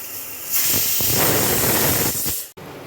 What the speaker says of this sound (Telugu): ఇప్పుడు కుక్కర్ మూత పెట్టుకుని 3 లేదా 4 విజిల్స్ రానివ్వాలి